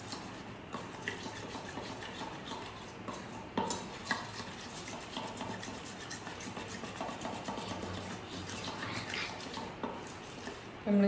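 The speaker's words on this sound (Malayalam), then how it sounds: "ഇത് നന്നായിട്ടൊന്ന് മിക്സ് ചെയ്തെടുക്കുക." Melted chocolate with a little sunflower oil is stirred in a bowl, giving soft scraping and clinking of utensil against the dish over a faint background hum, with a few sharper knocks; no speech.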